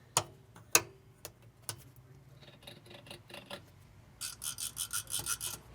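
Switches on a vintage Sansui integrated amplifier are flicked, giving several sharp, close clicks spaced apart, followed by a quick run of softer rhythmic scraping ticks near the end.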